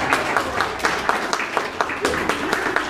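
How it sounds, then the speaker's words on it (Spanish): An audience claps for a music teacher at a motivational talk for young music students, a dense burst of applause with sharp individual claps standing out, loud and steady throughout. "Aplauso para el maestro César."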